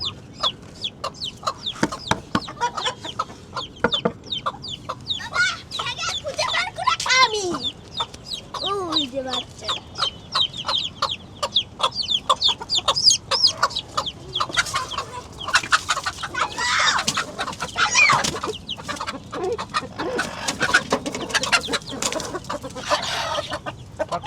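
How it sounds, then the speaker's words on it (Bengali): A mother hen and her chicks on a farm clucking and squabbling, close, with rapid repeated clucks, high chirps and agitated bursts throughout, and some voices faintly in the background. "একটা ভিতরে আরেকটা এখানে মা মুরগির সাথে মারামারি করে দেখছেন"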